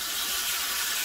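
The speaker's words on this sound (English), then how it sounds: "Oh, listen to that bacon frying." Bacon frying crisply in a pan, a steady dense sizzle and hiss filling the whole moment without pause, close and fairly loud with no talking.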